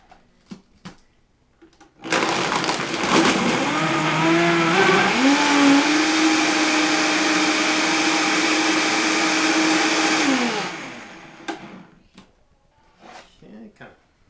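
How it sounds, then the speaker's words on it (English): A blender packed with smoothie ingredients, lemon among them, runs for about eight seconds, a loud steady whir with a pitch that rises and shifts as the contents break down. Short quiet handling noises come before and after. "now that we've got our ingredients all jammed in the blender here, we're gonna blend"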